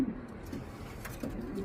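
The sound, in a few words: racing pigeons cooing in a loft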